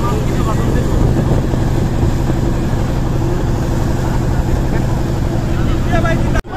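A motorized trawler boat's engine drones steadily and loudly on a river near a launch ghat, a continuous low rumble with wind noise that runs throughout and cuts off abruptly near the end.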